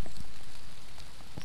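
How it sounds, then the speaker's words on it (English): Light rain falls on a cold day, a soft steady patter with a few sharper drops tapping close by, no voices. "It's starting to rain on me."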